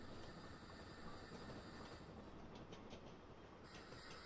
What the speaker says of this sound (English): There is a train coming by.